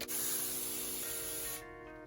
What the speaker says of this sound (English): And lastly, you want to mist down the enclosure.